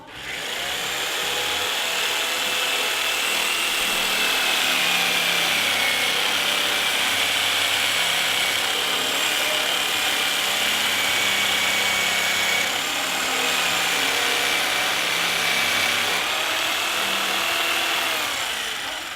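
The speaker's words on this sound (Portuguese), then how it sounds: "Então eu vou fazer aqui com a tico-tico, eu vou usar aqui uma serrinha" A jigsaw fitted with a narrow, fine blade cuts a curved line through wood for a stool, running loud and steady for the whole stretch with a high whine and small pitch shifts as the cut bends.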